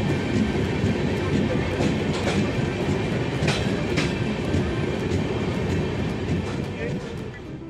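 Inside the 08507 Shalimar–Visakhapatnam special train, a steady rumble and clickety-clack of wheels on track carries on throughout, with occasional sharper clanks and a slight fade at the end.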